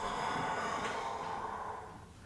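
A slow, audible exhale through the nose during a yoga forward fold, breathy and close, fading off toward the end.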